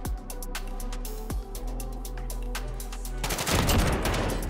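Rapid shotgun fire in Call of Duty Modern Warfare, a dense run of sharp blasts over steady game background noise, ending in a louder burst.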